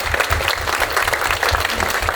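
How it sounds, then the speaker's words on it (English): Clapping from an audience at a lecture in a library conference room, a loud, lively burst of many hands with rapid irregular claps running steadily for the whole stretch. "let's please give them a round of applause"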